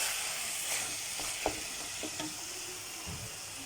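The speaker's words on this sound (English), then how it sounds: "So I'm adding this much chili pico. In we go. And let's stir." Chili pico stirred into a frying pan while lasagna is being made at home, giving a steady close sizzle and frying hiss with a few soft scraping stir strokes and no voices.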